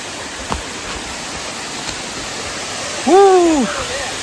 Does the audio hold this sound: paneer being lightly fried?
no